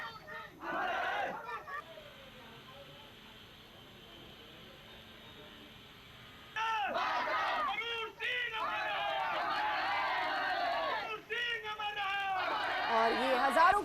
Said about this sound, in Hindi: उनके नाम के नारे लगाए जा रहे हैं, अमर रहे ग्रुप कैप्टन वरुण सिंह